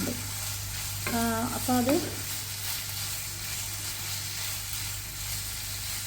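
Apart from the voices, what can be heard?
sausages frying in hot coconut oil in a pan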